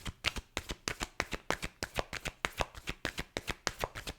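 A Moonology oracle card deck is shuffled by hand, a close, quick, even run of crisp riffling flicks repeating about three times a second.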